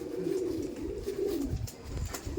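Kaldom pigeons at a pigeon loft giving a sustained low cooing drone, close and steady across the moment, with faint knocks and rustles beneath and no speech.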